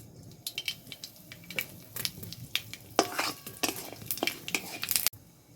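A tempering of one dry red chili, two bay leaves and black mustard seeds in oil, sizzling with irregular sharp crackles and spoon-against-pan clinks, close and fairly loud, with no talking.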